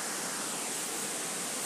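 A powerful, dangerous-looking waterfall near a small cliff face roars as a dense, steady wall of rushing water, loud and close, with no voices.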